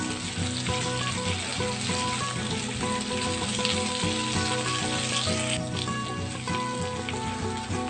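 Onions and eight to ten curry leaves crackle and sizzle loudly in hot oil in a pan, a dense continuous fry heard up close with no talking.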